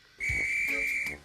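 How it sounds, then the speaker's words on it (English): A railway guard's whistle sounds from a steam engine's train in a railway remake, one clear, sustained shrill blast of about a second, close and loud, standing alone without talk. "Ah, that's my guard's whistle"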